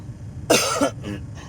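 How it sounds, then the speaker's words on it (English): A single harsh cough followed by two weaker, throaty coughs, close and clear against a quiet background. "Can't stop this weird cough."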